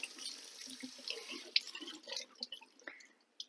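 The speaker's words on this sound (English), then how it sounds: "Whenever you're soaking nuts or beans, it is always good to rinse them off before cooking them." Faint tap water running over soaked nuts being rinsed in a kitchen sink, a soft steady splash with small drips and clicks, no talking.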